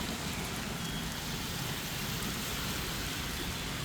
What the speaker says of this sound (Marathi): मुंबई उपनगरामध्ये सकाळपासून पावसाची संततधार सुरू असल्याचं आपल्याला पाहायला मिळत आहे